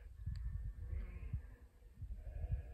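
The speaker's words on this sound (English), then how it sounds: "just rode through a whole flock of sheep" Sheep in a flock on the Colorado Trail bleat faintly at a distance over a low, steady rumble of wind or riding noise. A few calls overlap now and then.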